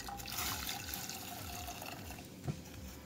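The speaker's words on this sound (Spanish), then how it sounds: "yo le añadiré una taza más de agua" Water poured from a cup into a pot of boiling pineapple juice while making pineapple gelatin mousse, a steady liquid splashing and trickling that runs throughout, with a brief louder splash near the end.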